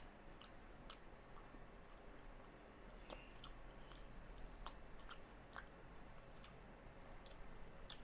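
Pork stir-fried in a gochujang-style tteokbokki sauce being chewed, giving faint, soft, moist clicks and squishes that repeat irregularly over a quiet background with no talking.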